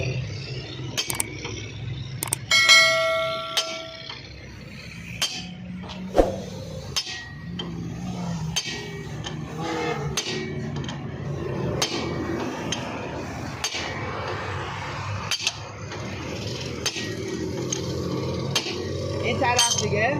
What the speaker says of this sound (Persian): میزنیم سر جاش میل تعادل و با ضربه زدن چکش